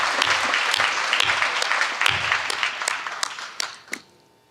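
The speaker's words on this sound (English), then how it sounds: "Let's give her another round of applause." Audience applause at a gala, a room full of people clapping steadily for a few seconds, then thinning out and fading to quiet.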